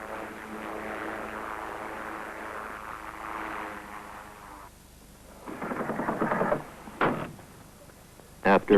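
A Pilatus PC-6 Porter turboprop's propeller engine drones steadily up close. A voice speaks over it, followed by several sharp bursts of louder noise near the end.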